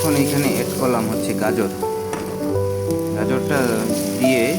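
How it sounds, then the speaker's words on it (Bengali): Carrots sizzle and fry steadily in a pan for pumpkin soup, a close, continuous crackle with some stirring, while a voice talks over it. "গাজরটা দিয়ে আমি পুরোপুরি এটা একটু ভাজা করব"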